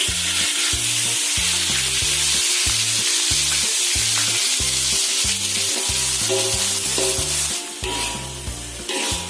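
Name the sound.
spice paste sautéing in hot oil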